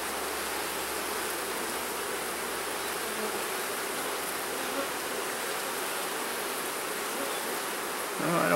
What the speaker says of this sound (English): There's lots of bees on the side of the box